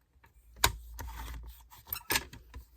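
Paper is being cut for a scrapbook collage with a few small, close scissor snips and soft paper rustles spaced irregularly in a quiet room.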